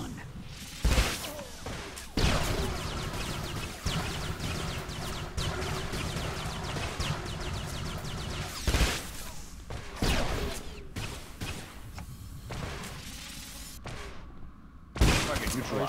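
Blaster gunfire in the Star Wars: The Old Republic game, in repeated sharp bursts over a steady battle din, with a voice talking intermittently.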